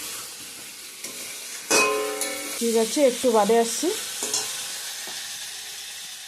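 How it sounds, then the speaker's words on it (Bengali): Cauliflower and potato sauté with spices in a pan for a vegetarian dalna, giving a steady frying sizzle and stirring scrapes while a voice talks briefly in the middle. "আর একটু কষিয়ে নেব ফুলকপির সঙ্গে ভালো করে ফুলকপি আলু"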